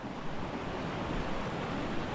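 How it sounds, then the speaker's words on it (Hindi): Steady broadband rush of a Kalash valley river running over stones, continuous and close, with no voices. "ये जनाब दरिया चल रहा है कैलाश का"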